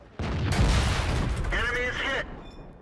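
A tank cannon fires in World of Tanks: a sudden loud blast with a booming low rumble that decays over the following seconds, followed by a sharp metallic ringing tone before fading out.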